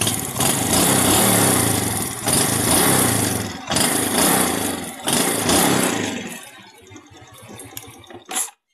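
A motorcycle engine idles loudly with a rough, steady putter, then drops to a quieter, uneven ticking idle near the end.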